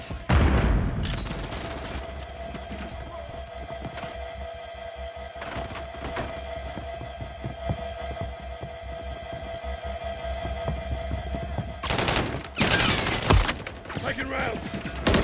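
Gunfire from the video game Call of Duty crackles in bursts at the start and again near the end, with thuds and booms over a constant low hum, while a voice talks over it.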